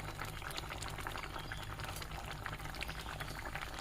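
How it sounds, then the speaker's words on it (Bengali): A potato and eggplant curry bubbles in a pot, with a soft, even simmering burble and small pops that stay constant throughout at low volume. "এখন একটু ভালো করে বলক এনে নেব।"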